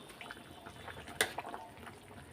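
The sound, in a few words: katla fish curry gravy boiling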